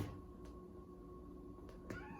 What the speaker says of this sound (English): That in the background is my cat.